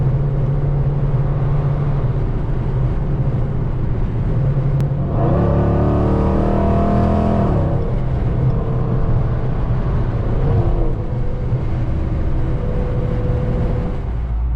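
A cammed 5.7 V8 car accelerates hard on an open road, its engine note loud and close, rising to a roaring pull around the middle of the stretch before settling back to a steady drone. No one speaks.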